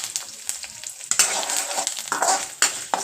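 Curry leaves sizzle and crackle in hot oil for a drumstick fry, a steady close frying hiss broken by bursts of spattering and stirring, with no voices.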